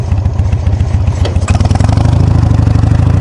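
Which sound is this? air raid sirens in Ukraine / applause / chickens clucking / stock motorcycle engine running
stock motorcycle engine running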